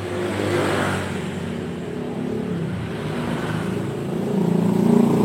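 Honda Supra 125 motorcycle engine running steadily at low RPM, with a rough, uneven drone that swells slightly toward the end.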